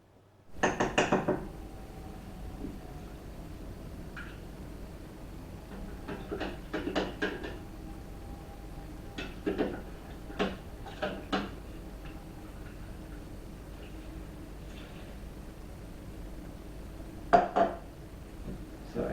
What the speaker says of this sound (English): So I do have to spend some time stirring all this together.